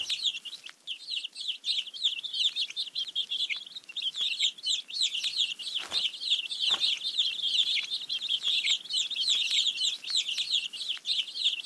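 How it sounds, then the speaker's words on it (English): Hungry baby bird chicks in a nest in a kids' counting game, a continuous chorus of rapid high-pitched chirping and cheeping that holds fairly steady throughout, with a couple of brief soft thumps partway through. "Feed the hungry baby birds with some seeds."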